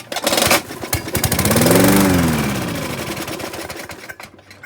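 An old lawn mower's small engine is pull-start cranked, with a loud rattling chug that rises in speed and pitch, holds briefly, then settles into a rough, fluttering run.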